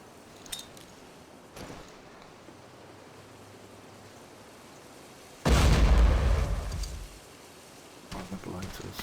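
A loud blast from a grenade taking out a tank in the shooter game Hidden & Dangerous, a sudden roaring burst of noise that lasts a couple of seconds and then decays, with fainter thuds before and after.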